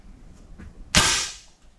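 An air rifle fires a single sharp shot at a target, close and loud, with a crisp crack that decays over about half a second, preceded by faint handling sounds and no talking.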